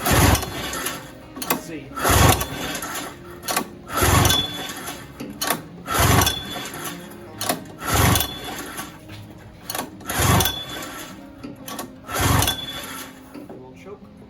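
Someone repeatedly pulls the starter rope on a 1972 Polaris Colt snowmobile with a rebuilt 294cc Fuji engine, about seven evenly spaced rhythmic cranking bursts, close up, with a brief remark spoken between pulls.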